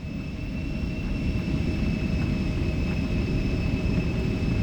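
Steady, loud roar of Embraer E175 jet engines spooling at takeoff thrust in a flight simulator, a continuous broadband rumble with a faint high whine on top, unbroken and close throughout.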